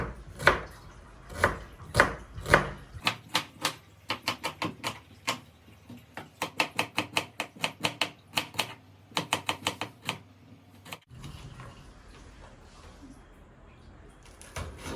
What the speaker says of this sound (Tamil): இப்போ வெங்காயம் பச்சை மிளகா வெட்டுவேன் பட்டாணி கறிக்கு